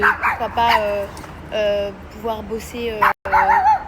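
A dog gives a few short, high yips and whimpering barks mixed through a woman's nearby speech, the sounds close and intermittent.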